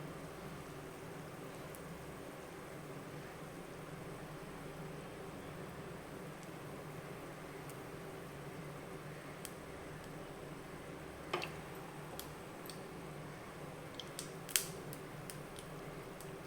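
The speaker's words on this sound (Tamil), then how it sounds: "கடுகு நல்லா பொரியட்டும்." Mustard seeds splutter in hot ghee in a pan for sambar, giving faint, sparse popping clicks over a quiet low sizzle that pick up slightly toward the end.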